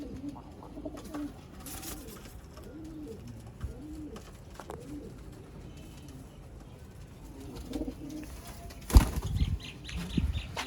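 Sialkoti pearl-marked pigeons give soft repeated coos amid rustling, then a sudden loud burst of wing flapping near the end, close by and moderately quiet, with no talking.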